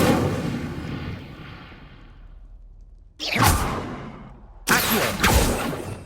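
Spell effects from the Hogwarts Legacy video game: a fading whooshing burst followed by two sharp, loud blasts with bright crackling tails, close and without voices.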